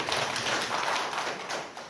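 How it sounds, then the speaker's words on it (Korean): A church congregation applauding to welcome a visiting granddaughter, a brief dense patter of many hands clapping together in a large room. "우리 손녀분 박수 한번 쳐줄까요?"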